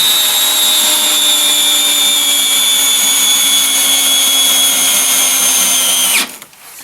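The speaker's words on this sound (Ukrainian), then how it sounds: "Захист спрацював, але він, в принципі, практично повністю вкрутив такий саморіз." A Bosch GSR 180-LI cordless drill drives a self-tapping screw at first speed, whining loudly and steadily for about six seconds before cutting out abruptly as the overload protection trips.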